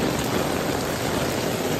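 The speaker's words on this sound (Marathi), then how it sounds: "पावसाने तर वाटच लावली आवरा पाऊस पडतोय." Heavy rain pouring outdoors, a dense, loud and unbroken wash of hiss with no pauses, near and filling the whole moment without any voices.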